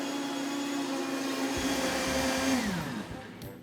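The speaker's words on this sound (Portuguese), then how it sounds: "Terminado de bater o molho" A kitchen blender whirs steadily as it mixes a sauce with milk and black pepper, a loud continuous motor drone that shifts pitch near the end as it winds down, with no talking.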